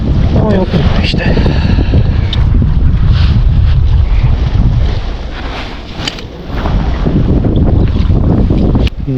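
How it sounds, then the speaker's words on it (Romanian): Strong wind buffets the microphone aboard a private fishing boat, a loud continuous roar with rumbling gusts that briefly ease midway, plus faint water and boat noises. "Dacă nu ar fi bătut vântul ăsta așa"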